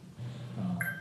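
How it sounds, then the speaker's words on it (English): A mobile phone notification chirps as a short pair of bright electronic tones near the end, faint in a quiet city council meeting room. "That was my phone."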